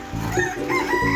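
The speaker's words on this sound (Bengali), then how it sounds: "এইদিকে আমাদের আওয়াজে আবার মোরগ ডাকছে।" A rooster crows at dawn around 6 a.m. near a home, one drawn-out call filling the short moment, fairly close and loud with no talking.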